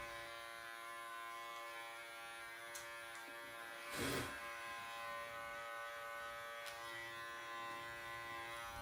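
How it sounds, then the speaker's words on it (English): Electric clipper trimming hair around a poodle's feet, a faint steady motor hum with one brief louder buzzing burst midway. "I'm just going to go against the grain with the clipper flipped around"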